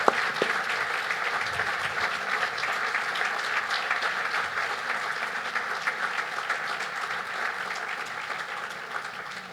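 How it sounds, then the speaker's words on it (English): Crowd applauding outdoors in a tent at a cancer center ribbon-cutting ceremony, a steady, even wash of many hands clapping that holds for about nine seconds and then tapers off slightly. "Oh, round of applause."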